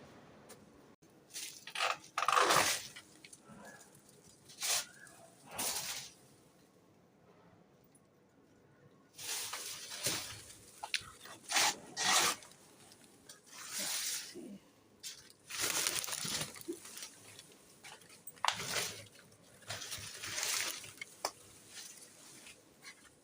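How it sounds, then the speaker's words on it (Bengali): Bunch of bananas being cut from a banana tree outdoors: a run of irregular hacking and tearing bursts, close and moderately loud, separated by quieter pauses, with faint background ambience. "একটা কলা গাছ কাটা হয়ে গেছে, কলার কাঁদি এই যে পড়ে আছে, আর একটা এই যে কাটছি"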